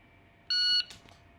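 A shot timer sounds a single sharp electronic beep lasting about a third of a second during a handgun draw drill, clear and close against a quiet background, followed by faint handling noise.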